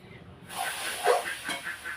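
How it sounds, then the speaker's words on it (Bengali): A steady, hissing sizzle of dried fish frying in a hot pan begins after a brief quiet moment and continues without pause. "আগে শুকটি মাছটা ভেজে নেই"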